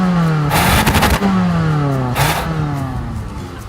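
A Toyota Camry with a 2.5 liter four-cylinder engine revs hard under full acceleration, its pitch climbing through two gear pulls with a brief shift break between. The engine sounds loud and close, then tapers off slightly.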